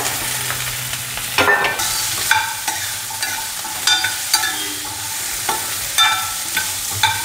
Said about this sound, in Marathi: डांगराच्या फोडी त्यामध्ये टाकायच्या